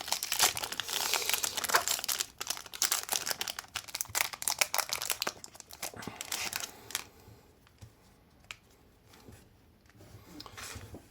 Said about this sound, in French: On va ouvrir ces beaux boosters.